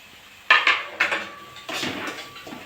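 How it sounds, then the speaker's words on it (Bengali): Semolina goes into hot ghee in a pan and is stirred with a metal spoon, producing a few close scraping clinks and a soft rustling scrape, with no voices. "গরম হয়ে গেছে, আমি এবার সুজিগুলো দিয়ে দেবো।"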